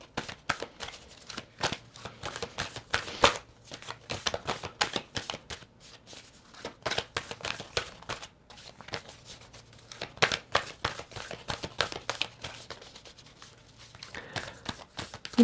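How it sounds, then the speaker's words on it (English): Oracle cards are shuffled by hand at close range, making a long run of quiet, irregular flicking and riffling clicks that continues for about fifteen seconds with no talking. "And the final oracle cards I'm going to pull for you."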